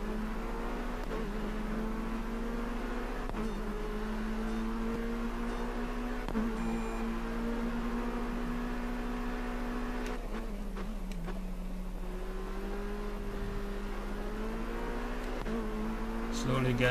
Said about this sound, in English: let's see how this car behaves